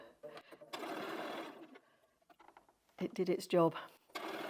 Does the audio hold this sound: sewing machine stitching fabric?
yes